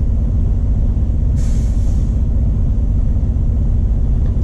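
A day cab semi truck dropping a trailer releases a sharp hiss of air brakes over a steady, loud low diesel idle rumble.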